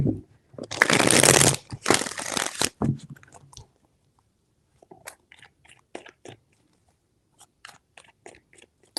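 A deck of tarot cards is shuffled in quick riffling bursts up close, followed by scattered soft clicks and taps of cards being handled in a quiet room.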